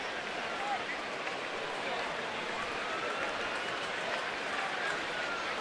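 Steady crowd noise fills a baseball stadium on a Thursday night during the Pittsburgh at Baltimore game, a continuous broad wash of applause and murmur with no distinct bursts, heard from a distance.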